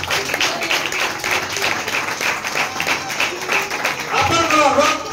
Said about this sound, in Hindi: ताली मारंतु